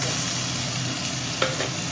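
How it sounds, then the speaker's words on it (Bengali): Onion and green chili fry in a small amount of oil, making a steady close sizzle with a quick scrape of stirring partway through. "এইটুকু দিই এবং পেঁয়াজটা লঙ্কাটা আমি দিয়ে দেবো"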